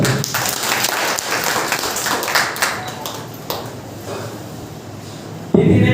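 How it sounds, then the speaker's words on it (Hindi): Congregation clapping during a Sunday church service: dense, sustained applause from many hands that slowly thins, with a few sharper claps near the end. "ताली बजाओ।"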